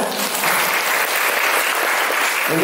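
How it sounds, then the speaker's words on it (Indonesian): Loud, dense applause rises from a youth political school gathering in Tegal, Indonesia, for an introduced secretary general, many hands clapping continuously before a slight dip at the end. "Tepuk tangan."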